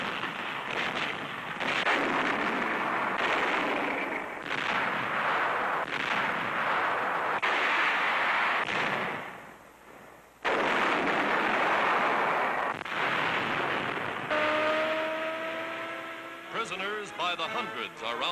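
WWII Allied tanks and guns firing during the 1943 Tunisia campaign: repeated heavy booming bursts, loud and close, run under a narrator's voice, with a short lull partway through.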